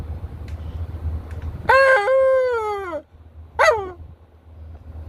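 A dog lets out a drawn-out, falling howl lasting about a second, then a shorter second howl, loud and close over a low background hum.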